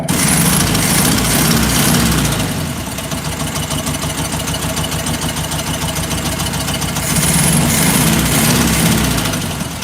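A 1967 Volkswagen Beetle engine, running rich with one side of its exhaust rotted off, idles loudly and steadily, a rough, throbbing rumble that swells a little at the start and near the end.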